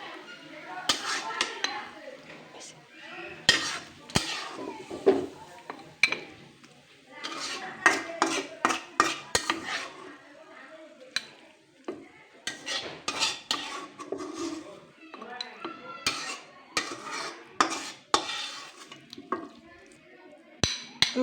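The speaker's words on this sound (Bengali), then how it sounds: "বাটিতেই শাক উঠে ফেলতেছি।" A spoon scrapes and clinks repeatedly against a metal pot while cooked saag greens are ladled into a bowl, in irregular bursts of close, clattering knocks throughout.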